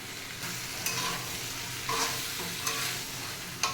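Pre-fried prawns tipped into a frying pan of fried pointed gourd and potato and stirred, giving a steady sizzle with a few sharp scraping clinks of the spatula against the pan.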